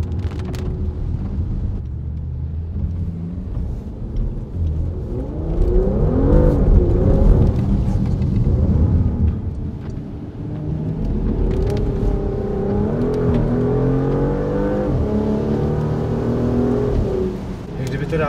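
A Porsche Macan S, the sharpened S version of the base model, drives and accelerates on the road, its engine note swelling and rising through gears in several pulls, fairly loud and close, with no talk over it.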